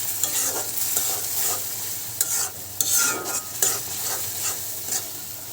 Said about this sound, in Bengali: এখন মশলাটা কষাতে থাকবে।